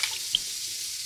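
Water pours steadily into a cooking pot for jambalaya mix, a brief, even splashing hiss at close range.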